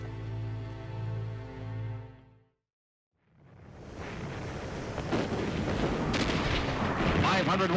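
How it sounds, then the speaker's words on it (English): Naval artillery barrage from warships in a Second World War D-Day setting, heard as a dense, loud, rolling roar of distant and near blasts building steadily after a brief silence, preceded by a sustained musical tone. "Warships lay down a withering barrage"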